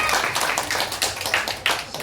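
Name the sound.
congregation clapping hands for Jesus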